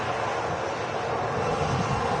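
An EasyJet airliner arriving at Manchester Airport from Lanzarote, passing overhead at about 1,900 feet, gives a steady broadband engine roar that stays even throughout, with a light touch of wind noise and no voices.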